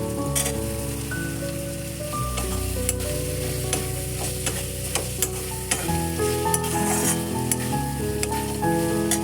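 Mutton keema masala with chopped tomato fries loudly and continuously in a pan, with steady sizzling and frequent sharp clicks and scrapes from a stirring spoon, close and with no talk.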